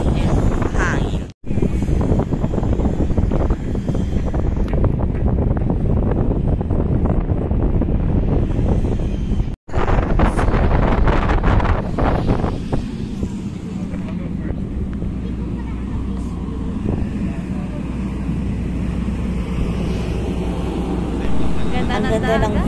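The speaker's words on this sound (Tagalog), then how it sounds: "Hangin." Wind buffets the microphone on the upper deck of a RoRo ferry crossing toward Puerto Galera, a steady loud roar with a low engine drone underneath, briefly cut out twice.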